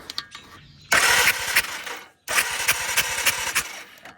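An ATV engine cranks during a spark plug test: two bursts of rapid, loud mechanical churning close by, separated by a brief pause, with the engine not catching.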